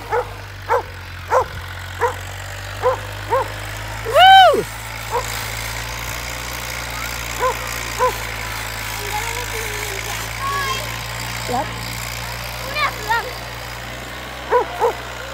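A dog barks repeatedly outdoors at a farm, regular single barks spaced about a second apart and fairly near, with one louder yelping bark partway through over a low engine idle.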